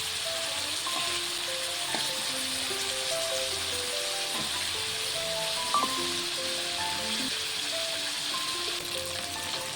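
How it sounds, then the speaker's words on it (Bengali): Mutton pieces fry steadily in hot oil in a home kitchen, a dense, even crackle and hiss that continues throughout with a few louder pops. "এভাবে মাটনটিকে ভেজে নেবেন আগে।"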